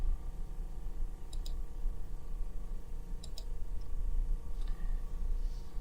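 Computer mouse clicks in Excel, heard as a few crisp single and double clicks spaced seconds apart over a steady low room hum.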